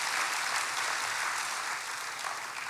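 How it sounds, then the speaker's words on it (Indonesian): A church congregation applauding in praise to God: a dense, even wash of many hands clapping together, sustained from start to finish with no speech on top. "Berikan tepuk tangan yang hebat bagi Tuhan."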